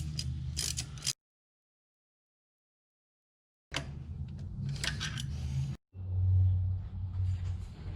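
Exhaust manifold bolts on a 1986 Mustang SVO are tightened with a wrench, giving bursts of close, rapid mechanical clicking and grinding, broken by a few seconds of silence, then a heavier rumbling burst.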